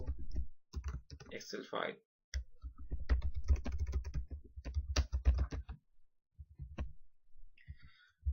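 Typing on a computer keyboard, close and quick clusters of key clicks under a voice explaining steps while working in Excel.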